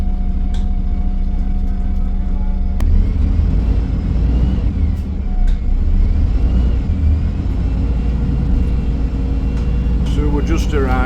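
A Stagecoach Alexander Dennis Enviro300 bus with a MAN engine drives along, its low engine drone and rumble filling the cabin throughout with a shift in tone early on, while someone talks over it.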